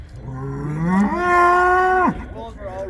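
Rodeo bulls raised in Williams Lake, a longhorn type with some Brahman blood, give one long, loud, close moo that rises, holds steady and drops off sharply, followed by a softer grunt with no voices.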